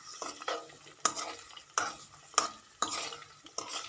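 Herbal hair oil simmering in a pan beneath a soft bubbling hiss, with five or six sharp metallic scrapes of a spoon stirring against the pan roughly every half second to second, close and clear without talk.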